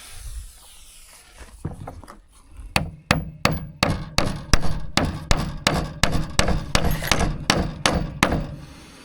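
Screws being hammered into a wooden pig trough, a run of sharp, close, evenly spaced blows that speed up into a steady rhythm after a few tentative taps.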